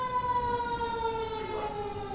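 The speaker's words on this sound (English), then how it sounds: "I'm waiting for the ambulance or fire truck" Wailing ambulance or fire truck siren, a sustained rising and falling tone heard steadily at moderate distance for the whole stretch, with no talk over it.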